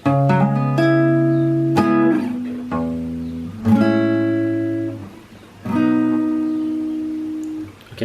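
Guitar playing the second section of a song, a steady run of ringing chords and picked notes at a moderate pace, close and alone with no speech.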